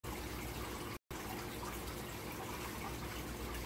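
Hot candy syrup for medicated hard candies is poured into molds in a slow, steady stream, a soft continuous liquid gush with one brief break near the start.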